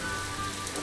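Steady, non-stop rain in the zoo-building video game Planet Zoo, a dense even hiss of drops on surfaces, soft and constant throughout.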